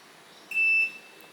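A motorcycle smart key alarm sounds one short, shrill electronic beep lasting under half a second, loud and clear against a quiet background.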